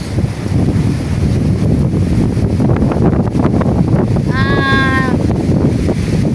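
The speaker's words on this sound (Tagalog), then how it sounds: "Pura kusog pa ang hangin, no? Kusog pa kayong hangin" Strong wind roars and buffets the microphone without letup, with a brief high, wavering animal cry rising over it near the end.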